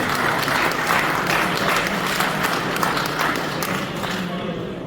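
Crowd applause rings out continuously for the Norwegian winner of a Circuit des Ardennes cycling stage finish at Rethel, a dense wash of clapping beneath a steady voice talking over it.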